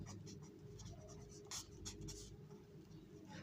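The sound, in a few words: writing the solution on paper by hand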